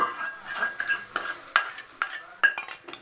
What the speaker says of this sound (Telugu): కాస్త మసాలా ఇట్లకి పట్టేదాకా కొంచెం ఫ్రై చేసుకుందాం.